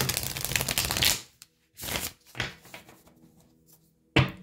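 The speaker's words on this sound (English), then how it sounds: "Cut the deck open to the magician." A tarot card deck is shuffled and cut in several separate bursts: a long riffle first, then shorter flicks and a final sharp snap, all close up with no talk.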